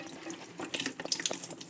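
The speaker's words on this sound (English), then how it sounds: "The water coming out of the tank is clean water, by the way." Clean water draining from a toilet tank during a Fluidmaster fill valve repair, a close trickling and splashing flow that grows busier and more uneven partway through, with no talking.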